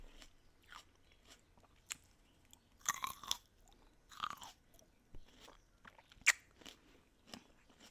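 Grapes are chewed close to the mouth with a series of irregular, sharp crunches and wet bites separated by quiet pauses, one burst standing out loudly.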